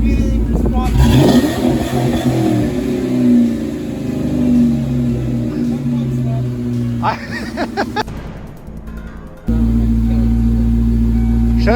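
A Ford Mustang engine runs loudly and revs up and down, with people talking over it; the engine cuts briefly, then a steady roar resumes.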